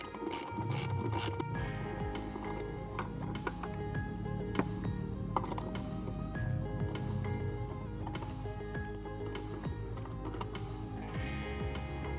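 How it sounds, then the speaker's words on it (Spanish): A ratchet clicks rapidly and continuously while the wheel nuts are loosened on a Mitsubishi Montero Sport, with close, dense mechanical pawl clicks over a steady workshop background. "Aflojamos todas las tuercas, todos los sujetantes de una manera bien ligera para después terminar de quitarlos manualmente."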